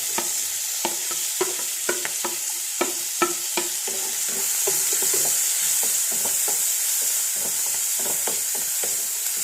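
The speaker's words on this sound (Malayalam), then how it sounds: "ഇത് ഫ്രൈ ആകുമ്പോഴത്തേന് ഇതിനകത്തേക്ക് നമ്മുടെ തക്കാളിക്ക് ഈ കറിവേപ്പിലയും കൂടെ ഇടുക" Tomato and curry leaves fry in a pan for a simple yogurt curry, giving a steady bright sizzle with repeated close stirring and spoon scrapes throughout, no voices.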